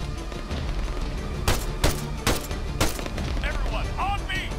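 Scattered gunfire in ARMA 3 from a firefight ahead in thick brush: a handful of sharp shots cracking out at irregular intervals over a steady background bed, with a few chirping bird-like tones near the end.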